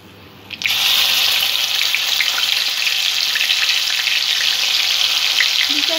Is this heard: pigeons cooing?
no